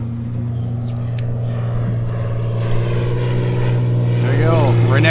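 A propeller aircraft drones overhead near an airport, a steady low hum that holds and grows slightly louder as it passes.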